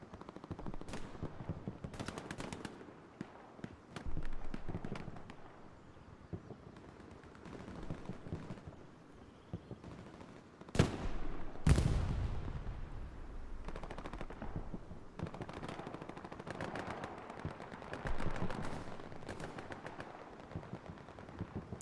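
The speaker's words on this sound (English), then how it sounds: "Shooting in the bush." Gunfire in the WWII shooter game Hell Let Loose on the Utah Beach map, faint rattling bursts of distant machine-gun and rifle fire, with one louder nearby crack, steady and low in level throughout.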